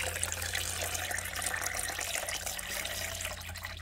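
Water pours steadily into a tank fitted with float switches and an HCW-M203 water level controller, a continuous rushing, splashing sound throughout with no pauses.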